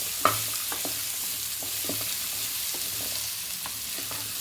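Sweet pumpkin pieces sautéing in a pan with oil before water is added hiss softly and steadily, with light scraping and tapping of a spatula scattered through and no speech.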